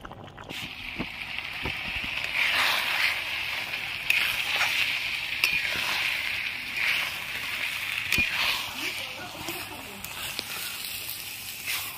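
Mutton kasha in ghee bubbles steadily in a handi, with a continuous close sizzle and faint crackle running for the whole stretch at an even, moderate loudness.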